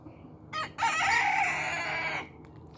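A rooster crows once, loud and fairly close, in a backyard chicken run beside a squash garden, with a short cluck just before the long drawn-out call and quiet outdoor background after.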